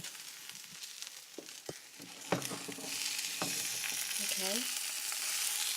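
Two eggs sizzle and spit steadily in a hot frying pan, with a soft crackling bed of frying, a few sharp clinks near the start, and one brief spoken word.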